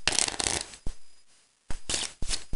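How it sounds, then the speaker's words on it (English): A deck of playing cards riffle shuffled: a dense crackling burst of flicking cards, a pause, then several shorter ruffling bursts and soft taps as the deck is bridged and squared, close and alone. "it's a pretty good shuffle"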